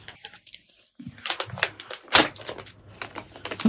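Crisp snipping and crinkling of plastic toy packaging being cut open with scissors, with a few sharp cuts and rustles close to the microphone.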